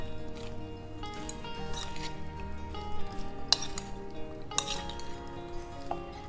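Boiled peanut chaat with vegetables being mixed in a bowl: soft, wet squishing with repeated light metallic clinks of a spoon against the dish, close and fairly steady.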